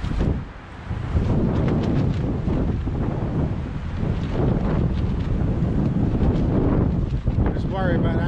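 Strong wind gusts buffet a tent stove chimney outdoors, a continuous loud roar with rushing surges throughout, no talk.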